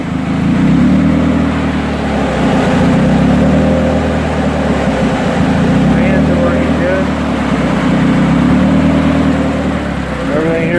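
A turbocharged Hyundai Tiburon engine runs continuously with a loud, steady low drone, heard from inside the car on a drive, with no talk over it.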